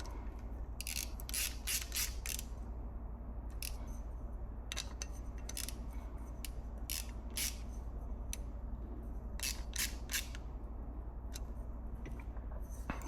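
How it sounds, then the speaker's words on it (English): A ratchet tightens the front nuts on a BMW R100 motorcycle, sounding in quick bursts of crisp clicking separated by short pauses across the whole stretch, close, over a low steady hum. "we're gonna tighten the front nuts."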